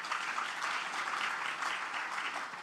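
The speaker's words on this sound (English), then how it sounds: "You deserve a louder applause for sure" An audience at a career fair at the Islamic University in Uganda gives a speaker steady, moderately distant applause, an even wash of many hands clapping without pause.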